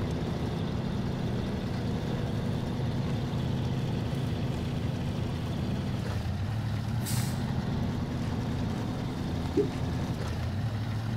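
Heavy truck engine in SnowRunner, nicknamed Blackie, a steady low diesel drone through off-road mud, with a sharp hiss of air brakes releasing once near the middle.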